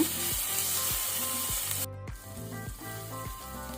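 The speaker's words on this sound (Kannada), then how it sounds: "ಇದನ್ನು ಸ್ವಲ್ಪ ಫ್ರೈ ಮಾಡುವ, ಹಸಿ ವಾಸನೆ ಹೋಗೋ ತನಕ." Ginger garlic paste fries with onions in a pan while making vegetable pulao, a soft, steady sizzle with regular scraping strokes of a spatula against the pan, over a low musical backing.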